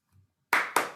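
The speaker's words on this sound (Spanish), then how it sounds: "Un aplauso." Audience applause breaks out at the close of a talk by Sergio Negri at the Fundación Navarro Viola, loud bursts of clapping starting abruptly after a brief quiet moment.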